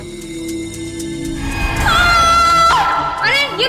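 A woman gives a loud, rising scream offstage in a dressing-room scene. The cry wavers in pitch and repeats. It comes over a sustained musical background with a low rumble and a thin layer of other sound.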